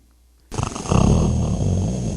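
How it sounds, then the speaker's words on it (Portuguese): Loud, rough snoring fills the clip after half a second of near silence, a dense rasping drone with throaty low rumbling pulses throughout. "Até se nota o roncar, não é?"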